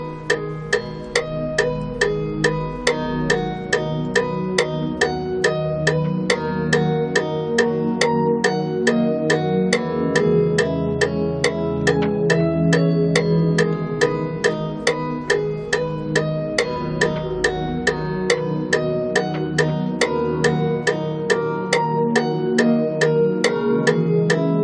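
A fast, repeating arpeggio melody copied from a piano part plays in FL Studio, with bright plucky notes ticking in a steady rapid pattern over sustained lower tones, loud and continuous with no voices.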